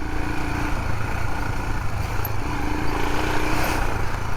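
A Royal Enfield Himalayan single-cylinder engine lugs along in second gear at walking pace on a country lane, a low steady thumping drone with light wind, moderately loud and unbroken.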